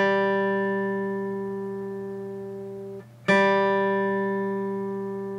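A single G ringing on the wound third string of an acoustic guitar, sustained and slowly decaying, then plucked again sharply, close and alone with no talk.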